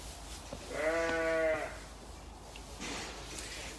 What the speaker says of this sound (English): These are another one of our rare breed of sheep.